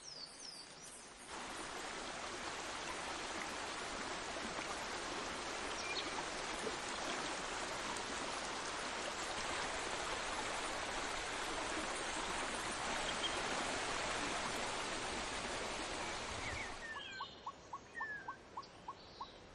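Broad, steady rushing of water through mountain streams and rivers in Colombia's Serrania de la Macarena, loud and continuous before dropping away to quieter surroundings with faint chirps near the end.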